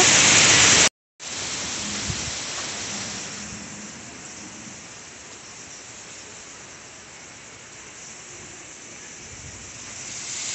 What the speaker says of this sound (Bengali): দেখো ঝড়ের তাণ্ডবটা দেখাচ্ছি তোমাদেরকে, চলো। ওই দেখো, আওয়াজ তো শুনতেই পাচ্ছ।